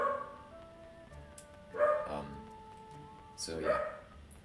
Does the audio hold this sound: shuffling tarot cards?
no